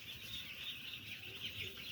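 Chickens on a poultry farm cluck softly in the background, a faint, steady flock murmur with scattered calls and no speech.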